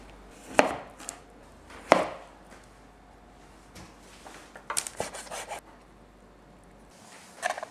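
Knife chopping eggplants into four pieces on a cutting board, two sharp separate cuts followed by a quick cluster of slicing strokes and a final cut, close and clear with no talking.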